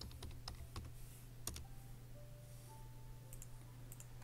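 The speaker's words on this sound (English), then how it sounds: "I'm going to type live." Live typing on a computer keyboard, a steady run of quick clicky keystrokes over a constant low hum, fairly quiet and close, with no talking.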